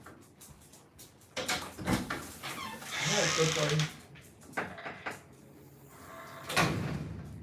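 A door is opened indoors to let a dog out, with knocks, rattles and a sliding clatter scattered across the moment, mixed with brief speech and a soft animal sound.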